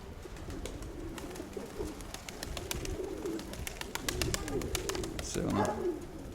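A domestic pigeon in a loft coos in low, repeated throaty phrases close by, joined by sharp clicks and wing flutters, while a person talks over it.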